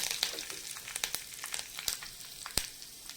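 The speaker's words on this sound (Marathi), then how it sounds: "हे बघा मोहरी तडतडली की त्याच्यात जिरे घालायचे आहेत आणि थोडंसं हिंग घालायचं आहे" A tadka of mustard seeds, cumin, hing, a red chilli and curry leaves spits in hot oil, giving faint scattered crackles and a few sharper pops over a quiet background hiss.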